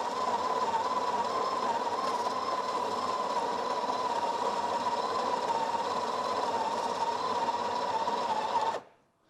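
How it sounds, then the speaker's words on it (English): Breville Barista Express grinder running steadily as it grinds coffee into a portafilter, a loud continuous whirring drone that holds for about nine seconds and then cuts off abruptly at the end. "I'm going to grind enough coffee so that I've got 16 grams in here"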